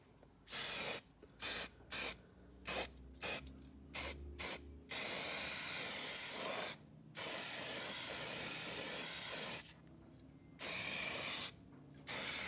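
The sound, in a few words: spray paint being sprayed on Star Wars Legion terrain arch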